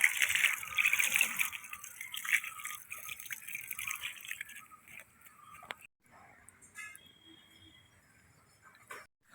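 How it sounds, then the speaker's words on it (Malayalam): Water sprinkled onto a layered dry leaf compost heap of soil and cow dung powder, a light hissing patter that gradually thins out, with a few scattered drips near the end. "നല്ല രീതിയിൽ വെള്ളം തളിച്ചു കൊടുക്കുക"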